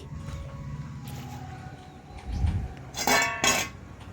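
Vegetarian drumstick curry poured from a pan into a bowl, heard as a few close metallic scrapes and clinks with soft scraping between them, and no talk.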